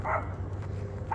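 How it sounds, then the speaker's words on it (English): A neighbor's dog barks twice from outside, one bark at the start and one at the end, over a low steady hum while underglow lights are fitted to a Honda Element. "Sorry about the noise, neighbor's dog is barking."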